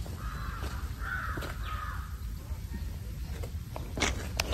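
A crow caws a few times near a water spot left out for animals on Panchawati Hill in Pune, the calls fairly clear over outdoor background noise, followed by scattered clicks and rustles.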